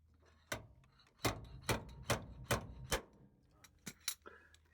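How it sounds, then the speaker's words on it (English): A stud puller works a dent out of a Dodge M880 body in a garage, giving a series of sharp metallic knocks and clacks in an irregular rhythm, close by, with light rattles between the hits. "Working that stud puller."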